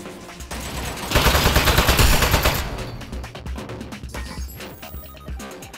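Rapid turret gunfire in the game Aperture Desk Job, a loud dense burst of automatic shots that swells for a second or two, then thins into scattered rattling shots.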